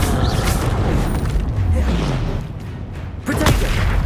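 An Expelliarmus spell is cast in Hogwarts Legacy during a troll fight: a dense, loud whooshing boom with low rumble and sweeping tones, ending in a sharp burst amid constant battle noise.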